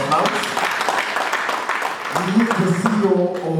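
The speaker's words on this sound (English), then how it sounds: "Kindly welcome him with a round of applause" Audience applause at a university digitalisation workshop, a steady dense wash of clapping with voices and tonal sounds mixed in throughout, rising slightly near the end.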